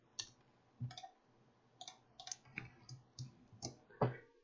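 Faint, crisp computer mouse clicks sound in quick irregular bursts during work in QGIS, with light keyboard-like ticks in a quiet room.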